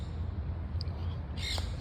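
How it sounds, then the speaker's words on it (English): Parrots squawk up in the trees by a small duck pond, a couple of short harsh calls standing out faintly over a low steady outdoor rumble. "there's some super loud ass parrots up there"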